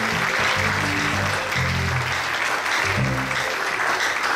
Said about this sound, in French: acclamons chacun pour lui.